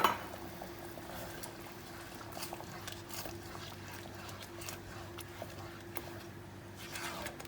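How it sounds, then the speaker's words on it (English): About half a cup of water poured into curry powder frying in a pan for chicken curry gives a soft, quiet trickle and gentle sizzle, with a few light clinks against the cookware. "We'll add a bit of water so that the spices can fry,"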